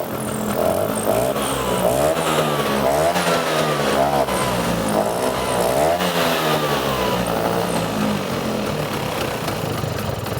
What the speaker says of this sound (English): Go ahead and snap the cap on, and we'll see if this starts right up.